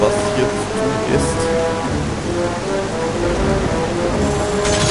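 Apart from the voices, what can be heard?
rain in video game Zelda Twilight Princess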